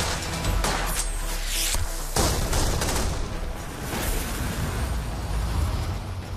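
Dense, loud volleys of gunfire crackle and boom in rapid overlapping bursts during an action scene in the Hong Kong TVB drama The Line Watchers.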